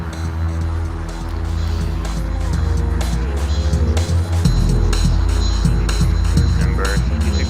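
Small airplane engine run at full throttle for a touch-and-go, a loud steady droning roar with a buzzy harmonic tone that intensifies partway through, with a voice speaking briefly over it.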